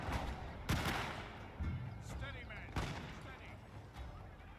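Musket volleys from a Tercio formation in Shogun 2: Total War, sounding as several loud, sharp cracks of gunfire spaced irregularly over a dense battle din, with a voice talking underneath.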